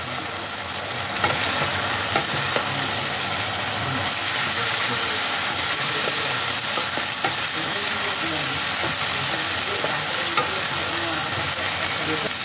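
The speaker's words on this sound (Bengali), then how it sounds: "এবার পেঁয়াজ রসুনটাকে ভালো করে কষাতে হবে যতক্ষণ না মশলার কাঁচা গন্ধটা চলে যায়" Onion and garlic masala frying in hot oil for a chicken dish, a dense steady sizzle with stirring scrapes, loud and continuous throughout, no talk.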